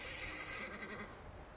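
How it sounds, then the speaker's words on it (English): A horse neighs in the video game Reverse: 1999, a steady, fairly loud whinny heard alone, coming from a windmill. "Sounds like a horse to me."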